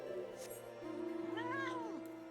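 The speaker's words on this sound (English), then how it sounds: "That's a cat, not a dog." A cat meowing in the online game Final Fantasy XIV during a crossover event, one drawn-out meow rising and falling over a low steady game hum.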